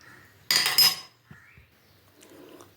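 A spoon clatters and scrapes while mutton gravy is stirred in a clay pot, with one loud burst of clinking early on and softer scraping and knocks afterward, close by and with no voices.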